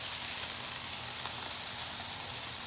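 Butter and burger buns sizzle steadily on a hot Blackstone griddle, a dense, even frying hiss that holds without a break and with no voices.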